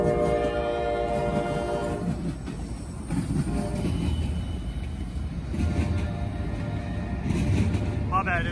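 A Norfolk Southern train with locomotive NS 8098 trailing third rumbles past close by, a loud steady roar with a tonal horn-like ring at the start and a voice speaking over the passing.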